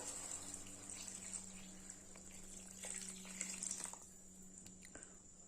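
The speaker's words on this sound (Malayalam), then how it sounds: "ഇനി ഇതിലേക്ക് വെള്ളം ചേർത്ത് കൊടുക്കാം" Water pours steadily into a pot of rice, a soft continuous splashing stream at low volume that thins out near the end.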